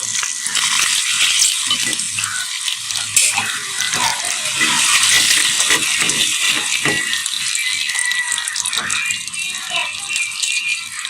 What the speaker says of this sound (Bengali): এবার হালকা ব্রাউন কালার হওয়া পর্যন্ত ডিমগুলো ভেজে নিব।